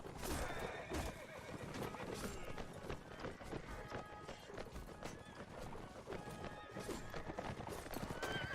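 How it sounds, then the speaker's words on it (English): Horse neighs and steady clip-clopping hooves in a video game, with busy battle sounds throughout; people talk in the background. "there's a guy over there on a horse"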